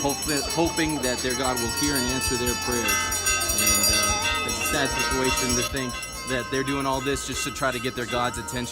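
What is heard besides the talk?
bells ringing at a Buddhist prayer wheel site in Kathmandu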